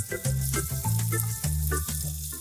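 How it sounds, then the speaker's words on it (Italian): Guanciale frying in a pan for carbonara, with a steady loud sizzle and crackle layered over humming tones that cut in and out rhythmically, with no talking. "adesso metteremo il guanciale nella padella"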